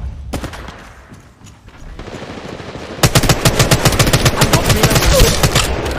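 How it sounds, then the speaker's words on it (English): Rapid automatic gunfire in a shooter video game, sparse shots at first, then dense, loud bursts of evenly spaced rounds that continue steadily to the end. "opening fire"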